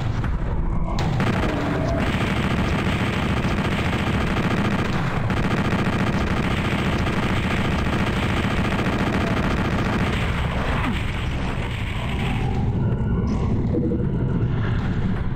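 A chain gun in PlayStation Doom fires nonstop in a loud, dense stream of rapid shots. Booming impacts and explosions are layered over it, and the barrage eases slightly near the end.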